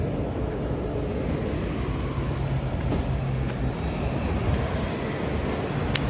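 A cheap used car bought for about $40 runs with an engine that doesn't sound healthy: a steady, low, rough rumble at a constant level, with no speech.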